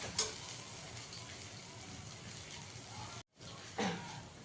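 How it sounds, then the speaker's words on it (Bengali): Mashed taro root fries in a pan with mustard oil, a faint steady sizzle broken by a brief silent cut and occasional light scraping stirs. "আর একটু ভাজা ভাজা করে নেব।"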